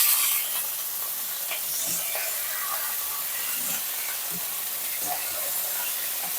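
Cut eggplant goes into about a tablespoon of hot oil in a pan for Vellore rasavangi, with a sharp burst of hissing that settles into a steady, close sizzle.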